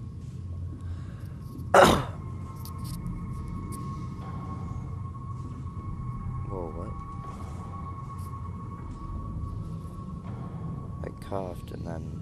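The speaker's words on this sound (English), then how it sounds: "Coughed and then it was really loud." A single sharp cough bursts out near the mic during a gaming stream of Dead Space: Severed, followed by a low steady room hum and faint background noise.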